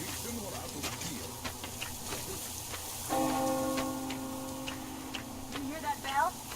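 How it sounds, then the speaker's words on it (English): A bell rings in the video game Metro Exodus, a sustained tone sounding briefly and close among ticking, clinking ambience, followed by quieter chimes, with a voice talking. "You hear that bell?"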